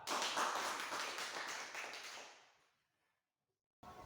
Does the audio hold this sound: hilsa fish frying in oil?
no